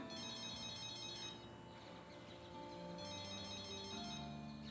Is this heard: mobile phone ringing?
yes